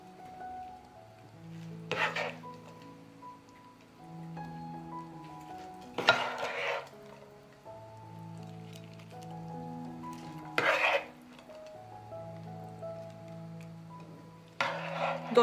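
Minced meat frying in a clay pot gets four brief, scraping stirs at regular intervals, heard over steady background music with a soft sizzle beneath.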